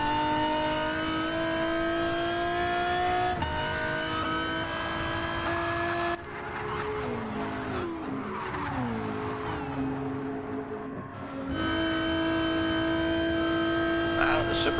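Supercharged race car engines rev and whine in a racing video game, sustained high tonal engine notes sliding through gear shifts, with a burst of tire squeal and skidding mid-way before the whine returns.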